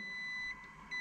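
A continuity tester on the distributor contacts of a V8 engine gives a thin steady electronic beep that drops out briefly mid-clip and then resumes, quiet and close.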